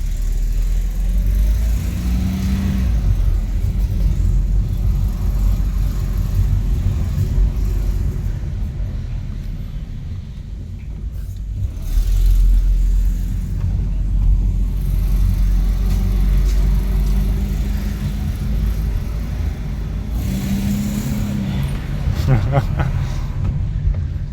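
A Mercedes 190E engine with bearing noise idles with a low, steady rumble while warming up, rising briefly in a few revs, heard close up while a person talks over it.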